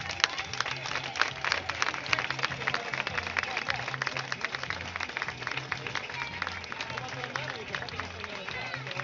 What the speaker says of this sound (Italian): Io intanto vorrei un applauso oceanico.